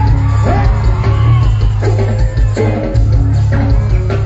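A crowd at a live band concert in Lambunao, Iloilo cheers and shouts loudly over pounding amplified music, the yells rising in bursts throughout.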